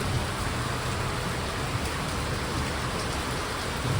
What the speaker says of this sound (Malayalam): പുറത്ത് നല്ല മഴ, നല്ല ഇടിയും മിന്നലൊക്കെ ഉണ്ട്.